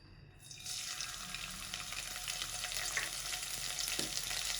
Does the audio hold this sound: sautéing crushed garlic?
yes